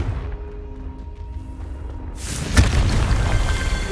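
In a video game, a Confringo fire spell bursts into a sudden deep, booming blast, followed by a rumbling roar that lingers after the low hum that comes before it.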